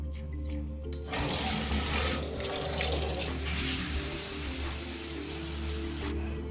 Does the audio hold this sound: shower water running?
yes